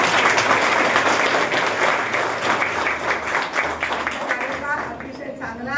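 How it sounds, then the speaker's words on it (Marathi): Audience applause at a civic gathering in Solapur honoring a newly chosen deputy mayor, a dense steady clapping that fades slightly toward the end, with a voice speaking faintly beneath it. "सगळ्यांनी मिळून आपण टाळ्या वाजवून"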